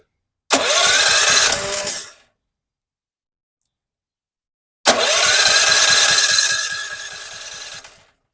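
A DuraMax XP4400EH generator running on propane with the choke on is cranked twice. Each attempt is a loud, close, rhythmic grinding churn of the electric starter lasting one to three seconds, and the two are separated by a pause of silence.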